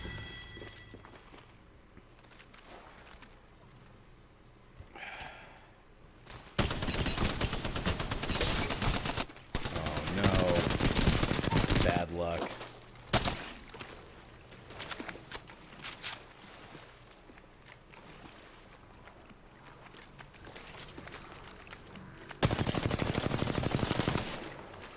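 Bursts of rapid automatic gunfire from the video game Apex Legends, loud volleys separated by quieter stretches of footsteps and game ambience.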